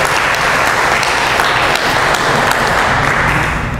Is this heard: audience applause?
yes